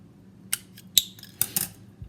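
Scissors snipping through a plastic straw, four sharp, close cuts spaced about half a second apart against a quiet background.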